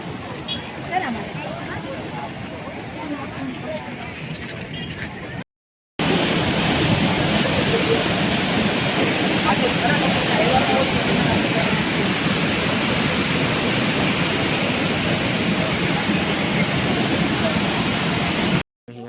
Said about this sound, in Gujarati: વરસાદ પણ જોરદાર ચાલુ જ છે.